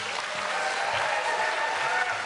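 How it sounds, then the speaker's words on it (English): A gubernatorial debate audience applauds, a steady, moderately loud wash of clapping from a crowd in a hall, continuous throughout. "I had asked our audience, if you would, to please not applaud"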